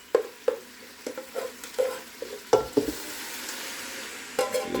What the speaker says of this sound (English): we're going to get some stir fry